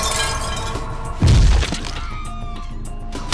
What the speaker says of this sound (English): The glass cracks more and more before the firefighter can react.